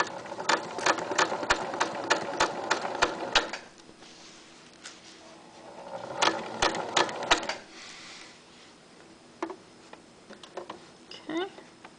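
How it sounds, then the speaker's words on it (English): A sewing machine stitches along the edge of a Velcro strip in quick runs of rhythmic needle clatter. The runs stop and restart with short pauses, and quieter handling noises and faint talk fill the gaps. "So stitching the edge of that Velcro."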